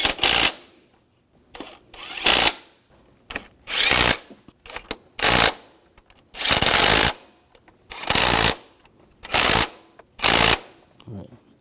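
Water pump bolts being tightened on a 2006-2010 BMW 550i engine, heard as a series of short loud mechanical bursts, about nine of them, separated by brief near-silent gaps.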